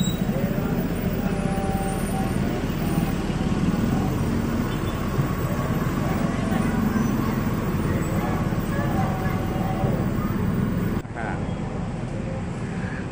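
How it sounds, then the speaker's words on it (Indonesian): A Mercedes-Benz Cityline 2 TransJakarta bus in Jakarta's Kota Tua area gives off a steady, moderately loud engine rumble amid surrounding street traffic, and the sound drops off abruptly near the end. "Ini Mercedes-Benz Cityline 2."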